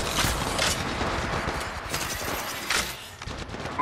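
Incoming gunfire aimed at the player in the battle royale shooter Apex Legends Mobile, rapid overlapping shots and bursts throughout, loud and close amid other game effects.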